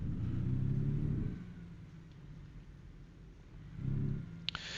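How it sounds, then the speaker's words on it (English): A truck engine in the driving game American Truck Simulator rumbles low and steady, swelling twice as the engine is revved, with a brief click near the end. "one thing I've noticed that's different from Euro truck is the sounds of these trucks"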